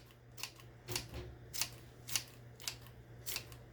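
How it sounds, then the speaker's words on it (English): Scissors snip through green onions in a kitchen, about seven crisp, evenly spaced cuts sounding close and clear over a low steady hum, with no one talking. "I like to chop my green onions with scissors."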